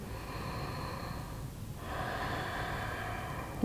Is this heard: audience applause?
no